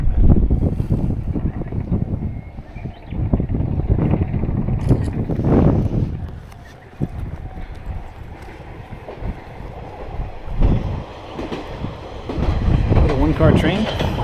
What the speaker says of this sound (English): Car train.